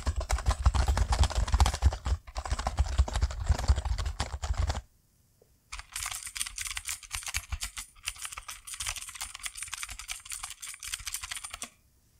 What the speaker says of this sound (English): you're not going to get the same kind of tactile feedback and sound you get from a mechanical keyboard, which I might as well demonstrate.